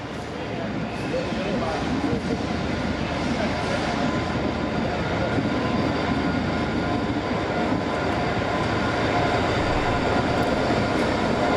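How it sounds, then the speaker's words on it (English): A train rumbles steadily through Carlisle station, a broad continuous roar with faint voices mixed in. "Tango and her train for Hull is the first to return from the yard"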